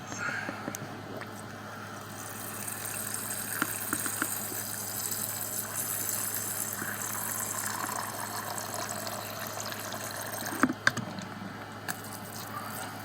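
Water trickles and splashes softly into a container, a steady gentle pour over a low hum, with a few brief knocks near the end.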